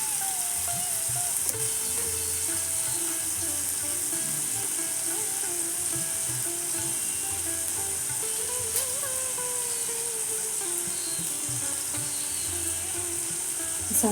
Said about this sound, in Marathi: त्यामध्ये थोडंसं हिंग घालते।